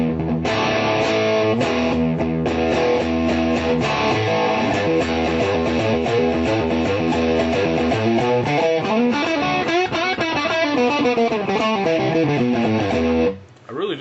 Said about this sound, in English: top boost, which would be an AC-30 top boost.